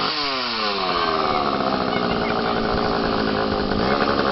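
A chainsaw roars loudly and continuously at a Halloween scare, its engine revving up at the start and then holding a steady, harsh buzz close by.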